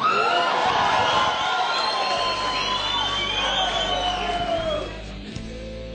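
Crowd cheering and shouting at a celebration held in the Câmara, a dense, continuous roar of many voices with whoops and yells that stays loud throughout, then eases slightly near the end.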